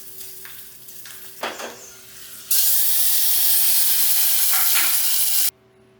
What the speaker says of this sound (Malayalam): അപ്പോൾ വെളിച്ചെണ്ണയിൽ നമുക്ക് കടുക്, പിന്നെ വറ്റൽമുളക് അത് താളിച്ച് ചേർക്കണം.